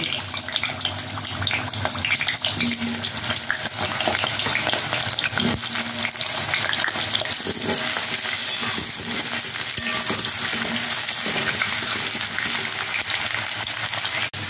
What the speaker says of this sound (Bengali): গরম হয়ে গেছে, এখন আমি আলুগুলোকে একটু ভেজে নেব।